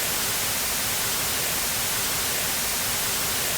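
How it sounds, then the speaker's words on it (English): Layered white noise test signals form a loud, steady, dense hiss spread evenly across the spectrum, unchanging throughout with no voice. "Now if we add another white noise along with that,"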